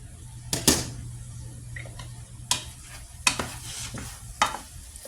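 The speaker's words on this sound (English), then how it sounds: "let it simmer for about 5-10 minutes until you see all this liquid evaporate. You are going to need to stir throughout." Potatoes simmering in liquid for scalloped potatoes are stirred in a pot, giving a few sharp utensil scrapes and clinks over a low, steady bubbling hiss.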